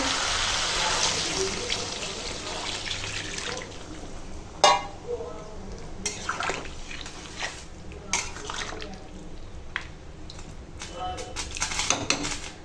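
Water is poured into a pan of browned chicken with potato and papaya for a thin curry gravy, a rushing splash at first, then quieter sloshing and stirring with pot clinks, while a voice talks over it.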